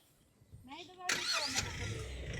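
Car engine already running is revved briefly as the accelerator is pressed gently, rising from a low idle into a louder, steady higher-pitched drone, with a voice heard over it at the start.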